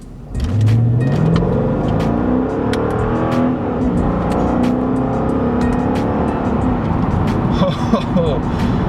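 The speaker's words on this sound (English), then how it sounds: "when you come to a stop, you drop it to first, and you mash the accelerator pedal" A Mercedes E55 AMG sedan launches hard from a stop in first gear, its engine note climbing in pitch and staying loud and close as the car pulls away.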